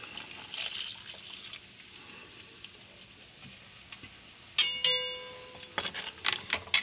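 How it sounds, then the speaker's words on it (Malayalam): First-press coconut milk trickles and splashes as it is poured into a simmering egg curry, a soft liquid stream followed by brief louder bursts of pouring, with no talking. "നമുക്കിതിൽ ഒന്നാം പാൽ ഒഴിക്കാം"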